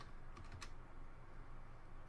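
A few quick, soft keypresses on a computer keyboard, the 4 and 6 keys, tapped in a short cluster while painting digitally in Krita, faint against a quiet background hiss.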